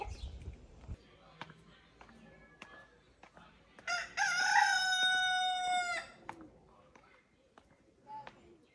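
A rooster crows loudly once in a long, drawn-out call, with sparse clucks and scattered background sounds before and after.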